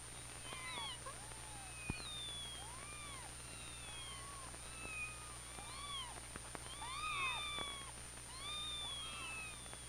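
Several kittens meow repeatedly in thin, high, overlapping cries, soft and fairly close over a low steady hum.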